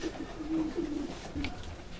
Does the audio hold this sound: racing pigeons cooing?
yes